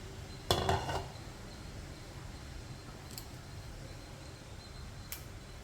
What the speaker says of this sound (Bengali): হয়ে গিয়েছে 2-3 মিনিট, এবারে আমি ঢাকনাটা খুলব।